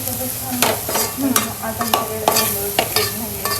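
Wild chai vegetable being stir-roasted in a pan, with a steady sizzle broken by repeated scraping strokes of a spoon against the metal, close and fairly loud with no talking.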